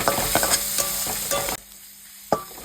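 Chicken liver and stomach fry with spices in a pan, giving a soft steady sizzle under several clinking stirs of a spatula, before the pan quiets and ends on one last scrape.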